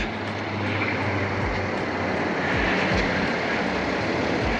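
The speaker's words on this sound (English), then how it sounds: "it's a little bit windy" Steady wind buffets the microphone outdoors, a broad rumbling roar with low gusty thumps and no talking.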